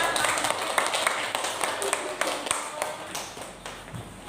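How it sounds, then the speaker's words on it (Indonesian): Classroom applause from students during a lesson, a quick scattered run of claps, fairly close and moderately loud, with faint voices beneath. "Oke, tepuk tangan untuk semua."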